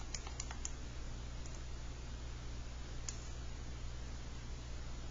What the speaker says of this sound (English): I'm going to have to type it again because I can't type today.